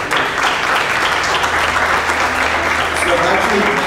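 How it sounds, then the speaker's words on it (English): Audience applause at a Caribbean cultural festival and art showcase at a college, a steady dense round of clapping filling the room with a low hum underneath and some voices mixed in. "So let's give Mr. Caines another round of applause"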